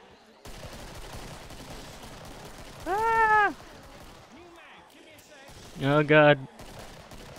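Steady, rapid gunfire from the Killing Floor video game crackles in the background, with two loud shouted cries breaking over it.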